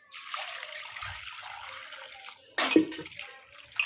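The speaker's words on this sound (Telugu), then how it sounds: "ఇప్పుడైతే నీళ్ళు పోసేసుకుందాం" Water is poured in a soft steady stream over bitter gourd to wash it, then a louder splash as more water hits a container, followed by gentle trickling.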